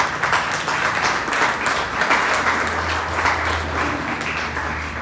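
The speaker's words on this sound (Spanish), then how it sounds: "dale un aplauso al Señor" A church congregation bursts into sustained, dense applause, many hands clapping together loudly and evenly for several seconds, with a faint low hum beneath.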